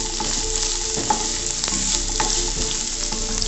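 Chopped carrots, beans and other vegetables for vegetable fried rice fry and sizzle in hot oil, a dense steady crackle close up with occasional stirring clinks and no voices.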